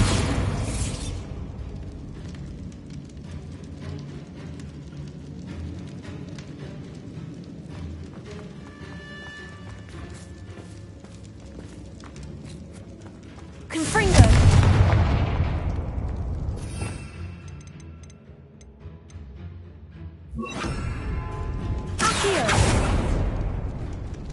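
Bombarda blasting spell detonating in Hogwarts Legacy, with a deep booming explosion and a later second blast over a rumbling game background, no talk.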